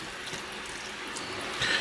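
A cup of water is poured into a cooking pot over meat, a steady splashing pour that swells slightly louder near the end.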